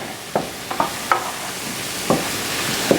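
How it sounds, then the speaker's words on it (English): Flour being stirred into a sizzling roux in a pan for coq au vin: a continuous frying hiss cut by about half a dozen scraping spoon strokes, close and clear. "Get that flour in there to cook out some of that rawness."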